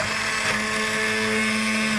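Blender whirring through green crab soup with a constant, close, loud motor drone and a strong steady hum beneath a buzzy, gritty top, running without pause.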